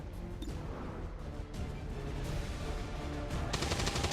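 Gunfire in the video game XCOM 2 War of the Chosen, dense overlapping shots and crashing impacts in a loud, continuous battle din with sharp bursts cutting through, no speech.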